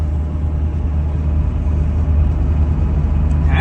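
A Nissan 240SX engine drones steadily from inside the car while driving, a loud, continuous low rumble with a slight change in pitch as it downshifts, and no voices.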